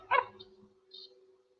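A person imitates a dog barking, with one loud bark-like yelp near the start followed by a few fainter yips, alone in a quiet room.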